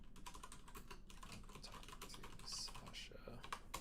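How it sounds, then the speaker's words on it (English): Rapid typing on a computer keyboard while writing a RenPy visual novel script, a dense run of close, steady key clicks with a faint voice murmuring underneath. "why am I just typing this all over when I should just be copying and pasting?"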